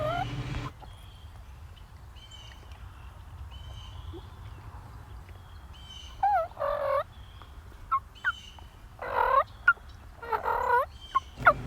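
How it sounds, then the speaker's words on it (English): Faint wild turkeys gobble in the distance, about 300 yards away, several short rattling calls in bursts over a quiet, hissy outdoor background in Iowa. "The only bird I've heard gobble this morning is about 300 yards away."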